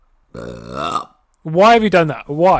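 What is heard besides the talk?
burp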